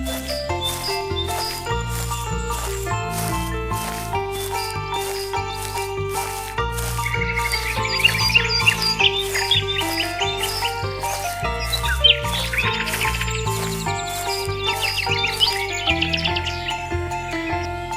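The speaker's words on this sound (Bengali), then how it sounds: "হাঁটতে হাঁটতে হঠাৎ টিয়া পাখির সঙ্গে দেখা হয়।" A parrot chirping in a cartoon, bright repeated tweets over a busy, rhythmic musical score that fills the whole stretch.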